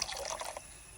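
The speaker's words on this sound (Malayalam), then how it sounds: "ആദ്യം കുറച്ച് വെള്ളം ഒഴിക്കാം." Water is poured into a cooking pot for pepper rasam, a short soft splashing pour lasting about half a second before it stops, faint and close, with no talking.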